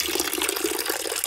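Water pours into a hole dug in sand at a sandcastle, a steady close splashing rush of liquid with no voices.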